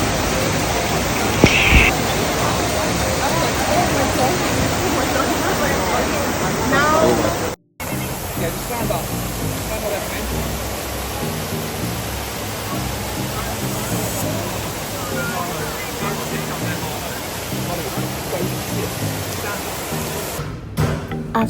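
Steady rush of falling water at the Trevi Fountain in Rome, with a dense crowd murmuring throughout and a brief cut partway through.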